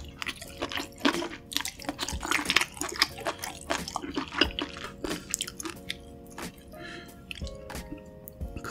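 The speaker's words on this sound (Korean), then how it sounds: "다음 낙지 먹어볼게요" Close, wet chewing of small octopus (nakji) at a seafood meal, with squishy, slurpy bites and sticky mouth sounds repeating steadily.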